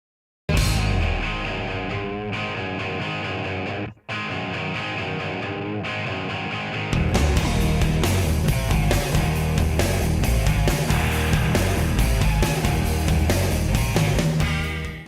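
Loud, driving distorted glam metal electric guitar riffs with a band behind them, a brief cut partway, then a fuller, heavier groove continuing to the end.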